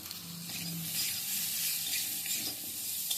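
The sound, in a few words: frying and stirring amla (Indian gooseberry) in a pan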